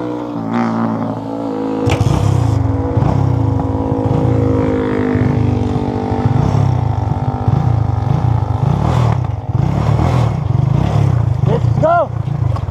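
A borrowed motorcycle's engine revs and drones steadily at close range during a family outing at Talisay Beach in San Narciso, Quezon, with voices and shouts over the engine.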